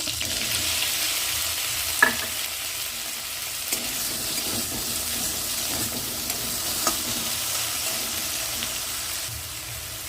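Sliced okra frying in hot oil in a village kitchen, a steady broad sizzle throughout, with a few sharp crackles and spoon-stirring clicks, close and alone.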